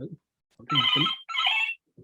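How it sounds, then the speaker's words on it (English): A mobile phone rings during a lecture on imaging, two bursts of electronic ringtone that interrupt a speaking voice, with the lecturer talking just before the ring. "Sorry, that was my phone's ringing for a change."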